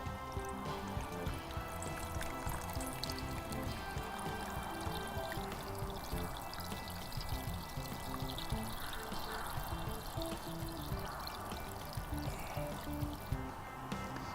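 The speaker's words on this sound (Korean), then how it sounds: "큰손 액상유산을 마늘 종자에 부어줍니다" Liquid Keunson lactic acid solution poured over garlic seed cloves for organic seed disinfection, a steady continuous pouring and trickling that runs throughout, fairly quiet and alone with no talk.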